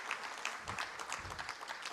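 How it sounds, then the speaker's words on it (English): Applause for a research field team and collaborators at a child health surveillance webinar in Karachi, Pakistan: steady, moderate clapping from a small group, continuous for about two seconds with no talk over it. "Dr. Momin, and I think the team, the field team, the Decode panel, and our collaborators deserve a good clap, because this is tough work."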